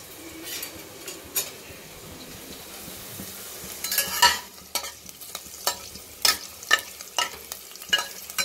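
Slit garlic, ginger and green chilli frying in hot oil in a pan make a soft sizzle, then a run of sharp, rhythmic spoon-against-pan clinks and scrapes as they are stirred. No voices.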